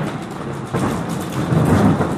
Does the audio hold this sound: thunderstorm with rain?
yes